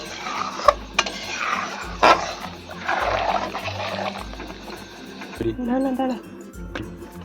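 Shukto vegetables are stirred in a pan, giving scattered scraping and a few sharp metallic clinks of a spoon against the pan, fairly soft and close, with a voice speaking briefly near the end.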